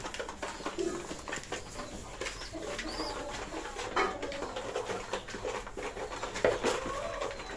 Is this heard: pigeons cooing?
yes